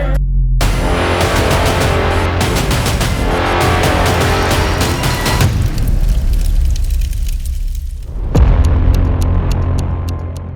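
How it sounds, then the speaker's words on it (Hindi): Bomb blast in front of the Red Fort in Delhi, heard as a loud, continuous roaring boom with rumbling low end that cuts off abruptly, followed by a second harsh burst and lingering noise. "बम ब्लास्ट हुआ है लाल किले के सामने।"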